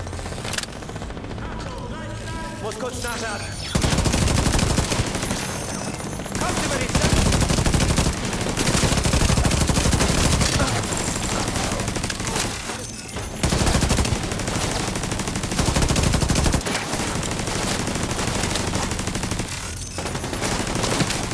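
Dense video game gunfire from Division 2, Reign of Fire mode, plays as continuous loud automatic bursts and volleys with brief pauses between, filling the whole stretch with a muffled voice faintly under it.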